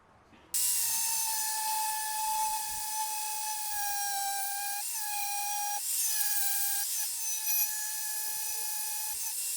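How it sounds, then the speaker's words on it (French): An angle grinder smooths a stitch weld on sheet metal: the motor starts abruptly and holds a steady, high-pitched whine with slight dips as it bears on the metal, continuing alone to the end. "Y passer un coup de meuleuse dessus."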